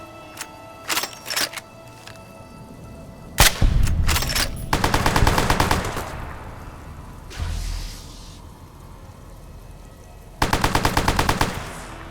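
Automatic and single gunshots from a gun in the video game Fallout New Vegas ring out in loud bursts, a few isolated shots followed by rapid sustained volleys, with pauses between bursts.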